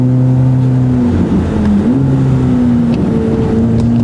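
A Chevrolet Corvette C8 ZR1 with its twin-turbo engine accelerates on track, a loud sustained engine drone that dips briefly and then climbs again, close and steady throughout with no talk.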